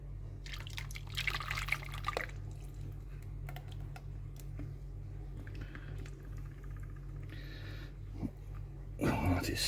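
Liquid spills and drips from a pan of thickening trifle custard on the stove, giving scattered wet splashes and drips over a steady low hum, with a louder burst of sizzling splatter near the end.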